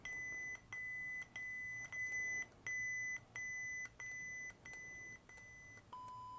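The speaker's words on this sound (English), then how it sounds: "So we're gonna go up, and you'll hear the beep change and get louder." A lightsaber's volume adjustment gives a series of short, evenly spaced electronic beeps, about nine in a row, with a final beep at a lower pitch, clear and close.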